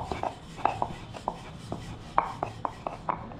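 Rolled dough is cut with the rim of a bowl, giving a series of about a dozen short, crisp taps and thuds on a board at an irregular pace, close up with no talking.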